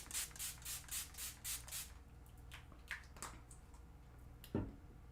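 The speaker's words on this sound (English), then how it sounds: "I'm just going to use that Timeless hydrating spray that I used last week." A hydrating face spray with a cucumber scent is pumped in a quick series of about six soft, close misting bursts, followed by quieter rubbing and a low thump near the end.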